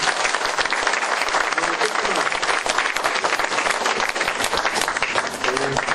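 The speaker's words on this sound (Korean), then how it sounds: "큰 박수 부탁드립니다." An audience at the inauguration ceremony of a women's volunteer fire brigade chief in Mapo, Seoul, gives a loud, dense round of applause, with a few faint voices mixed into the steady clapping.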